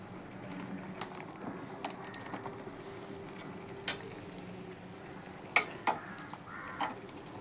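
Beef seasoned with salt and pepper powder cooks quietly in a pan, with a soft sizzle under sparse, scattered scrapes and clinks of a utensil stirring it, and no talking.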